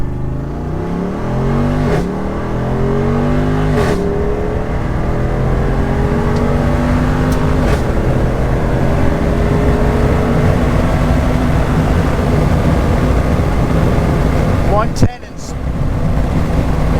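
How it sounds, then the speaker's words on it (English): A Jeep 392 in Off-Road Plus mode accelerates hard, its loud engine drone rising and dropping through gear shifts early on, then holding a steady roar with a brief clunk near the end. "Notice that in Off-Road Plus, it varies the way it shifts, and when it shifts, and how it shifts"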